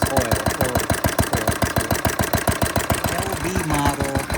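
An International LB model hit and miss engine runs with a steady, rapid mechanical chuffing beat, loud and close, with faint talk underneath.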